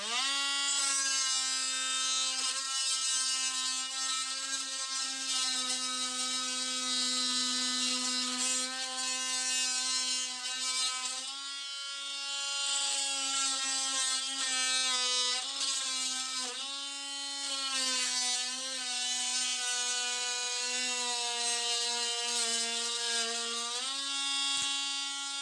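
A Graphite Energy+ oscillating multi-tool cuts through thin plywood, giving a steady, high-pitched buzzing whine with strong tonal harmonics that dips slightly in pitch under load and runs continuously and close throughout.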